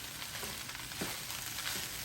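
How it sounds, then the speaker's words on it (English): Turkey fried rice sizzles steadily in a Power XL cooker, with faint stirring scrapes over a constant frying hiss. "I'm just going to stir all this up"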